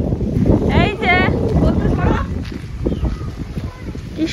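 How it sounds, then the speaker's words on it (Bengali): Wind blows past the microphone by a tea garden near the Murti River in Dooars, a loud rumbling buffet in gusts. A voice speaks briefly over it. "কি সুন্দর হাওয়া দিচ্ছে"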